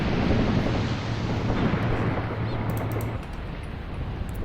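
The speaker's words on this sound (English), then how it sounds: "huge explosions here." Huge battlefield explosions in Graviteam Tactics: Mius Front, a 1942 Soviet tank battle with T-34s, rumble as continuous loud, dense booming noise with no talk.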